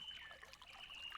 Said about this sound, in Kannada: ನೀರು ಹರಿಯುವ ಸೌಮ್ಯವಾದ ಶಬ್ದವನ್ನು ನೀವು ಕೇಳುತ್ತೀರಿ.